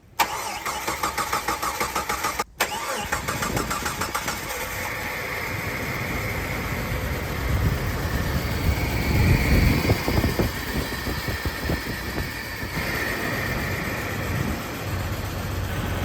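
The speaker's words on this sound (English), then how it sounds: "We're gonna crank it first with the fuel pump disconnected so we can get some oil pressure up." A Jeep Wrangler TJ engine, freshly fitted with a new cylinder head and lifters, cranks over and then catches and settles into a steady idle, loud and close with no voices.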